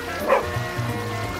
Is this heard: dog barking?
yes